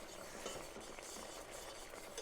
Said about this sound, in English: Whisk it together a little longer